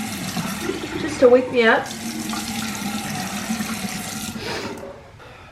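Cold water runs from a tap with a few quick splashes as it is splashed on a face, then continues flowing while a person speaks briefly over it.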